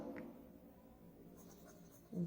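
Faint, brief scratching strokes of writing on paper or a board in a quiet classroom-like room, very soft and close.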